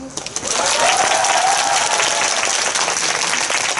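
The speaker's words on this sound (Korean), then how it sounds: "영화를 보고 그 장면이 인상적이셨다고 생각하시면 박수." Audience at a live talk for the Korean film The King bursts into loud, dense applause after a brief quieter start, clapping holding steady to the end.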